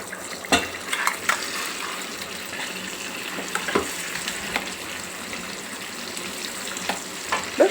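Tempering frying in a pan as puntikura (gongura) leaf chutney with turmeric is stirred in: a steady close sizzle with scattered clinks and scrapes of a spoon against the pan.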